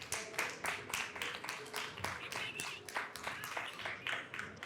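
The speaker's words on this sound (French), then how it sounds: "Elle vous applaudit" An elderly grandmother claps a steady run of light, quick hand claps, close and clear over faint background noise.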